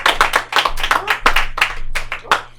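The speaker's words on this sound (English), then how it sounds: "give her a round of applause" A small live comedy audience claps for a comedian, a few close individual hands giving sharp, uneven claps for a couple of seconds.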